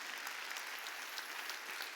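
Dense, steady applause from a church congregation at a Wednesday worship service, many hands clapping together at an even level without a break, heard from within the hall.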